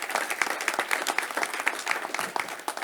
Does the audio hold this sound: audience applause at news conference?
yes